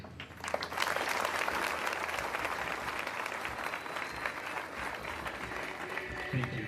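A school audience at a boys' academic day claps steadily and loudly, dense crowd applause continuing unbroken throughout with a few louder peaks.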